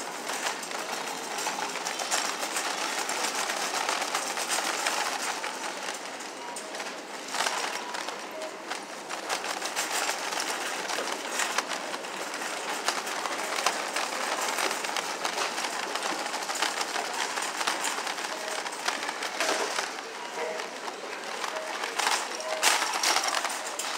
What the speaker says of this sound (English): cart on this floor sounds like a train.